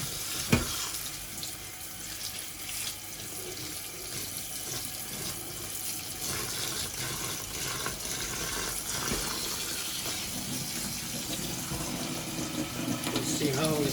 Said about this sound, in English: Now we wash red lentils properly.